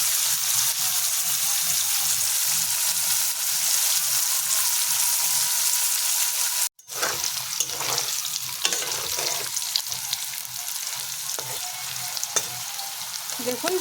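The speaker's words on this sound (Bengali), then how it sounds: "হালকা আছে লাল লাল করে ভেজে নেব" Teasel gourd (kakrol) frying in hot oil in a kadai, a steady close crackling sizzle that drops out for a moment before resuming with scattered pops.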